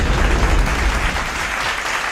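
Brief burst of dense clapping applause, a steady wash of many hands at moderate level for a couple of seconds, with no voices on top.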